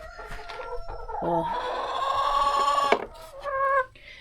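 Backyard chickens cluck and squawk close by. One bird lets out a long drawn-out crow-like call in the middle, followed by a couple of sharp clucks, and a single spoken word is heard.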